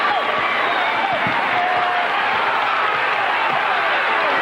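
A basketball arena crowd in a 1993 college game, Illinois State versus Bradley, roars steadily and loudly throughout, a dense sustained clamor of many voices with scattered shouts rising above it.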